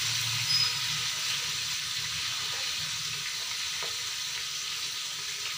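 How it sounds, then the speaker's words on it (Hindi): Onions fry in a pan, just starting to turn light brown, in a home kitchen. A steady, close hiss of frying fills the whole stretch without a break. "तो अब हमारा जो प्याज है वो फ्राई होना शुरू हो गया है"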